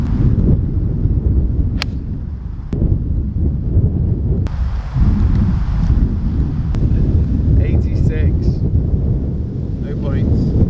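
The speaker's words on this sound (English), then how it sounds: "it's blowing a gale again now" Strong gusty wind buffets the microphone on an open golf practice ground, a constant low roar with brief sharp knocks, continuing throughout at high level.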